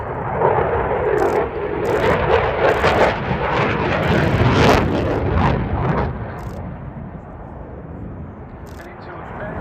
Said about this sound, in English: All of this with the two Eurojet EJ200 turbofan engines in afterburner.